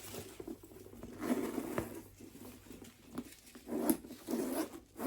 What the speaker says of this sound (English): Let's see if this zipper is as smooth as my blue one.